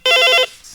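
A telephone rings once on a radio farm call-in show, a loud, bright trilling burst of about half a second that cuts off abruptly, followed by quiet room tone.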